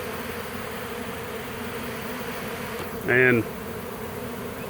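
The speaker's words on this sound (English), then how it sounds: "These are really gentle bees right here too." A swarm of gentle bees hums near a hive, a steady low drone with one louder buzz as a bee passes close by the microphone; a voice briefly speaks.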